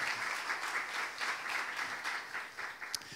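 A church congregation claps during a Saturday worship sermon, with dense, steady applause holding at a moderate level for a few seconds with no talking over it.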